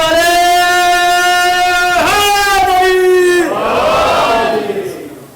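Majlis audience in Antwerp chanting religious slogans in unison, with long sustained voices rising together, then a shift to a rougher collective shout that fades away.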